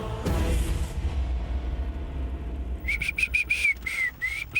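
A person whistles a quick run of sharp, high notes in short bursts, preceded by a low rumble of background noise.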